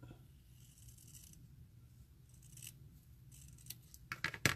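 Paper being trimmed with scissors at a craft table, a run of soft close snips that grows into a few louder, sharper cuts near the end, with no talking.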